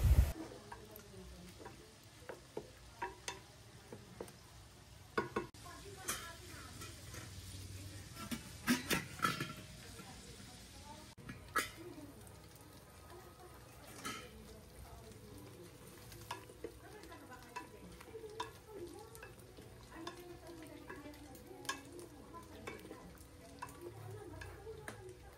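Pork sautéing in a pan for Filipino sinigang gives a steady low sizzle with scattered stirring clicks and scrapes throughout, fairly quiet and continuous, with faint background chatter.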